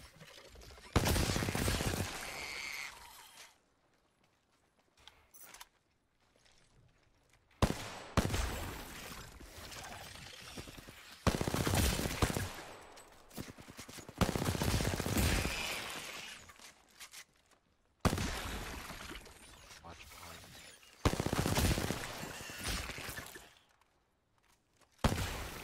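Bursts of rapid automatic gunfire in the video game Apex Legends, several loud volleys separated by short quiet gaps, each lasting a few seconds.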